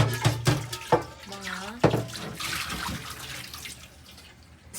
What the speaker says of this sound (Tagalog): Hugasan niyo po ang kanyang paghahaluan